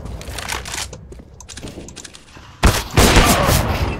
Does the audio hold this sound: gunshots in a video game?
yes